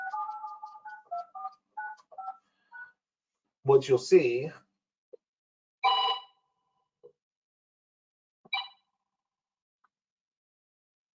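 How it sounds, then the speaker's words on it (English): A telephone call placed to a cell phone: a run of short dialing tones, then several separate ringing bursts spaced a couple of seconds apart. A brief spoken phrase comes between them. "if I were to go on my phone and actually make a telephone call to my cell phone"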